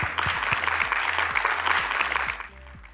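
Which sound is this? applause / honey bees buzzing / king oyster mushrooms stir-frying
applause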